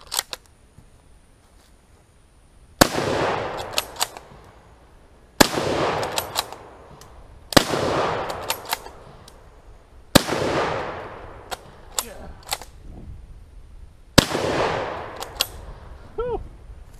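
A Turkish Mauser rifle fires Egyptian surplus ammunition at an outdoor gun range, with five sharp, loud gunshots spaced a few seconds apart. Each shot rings out in a decaying echo, and small clicks and handling noises fall between the shots.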